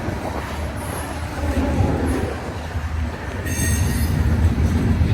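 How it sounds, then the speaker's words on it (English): A freight train rumbles past close by, wheels grinding and squealing on the rails in a steady, loud wash of noise with no talking. "Riding along with the train."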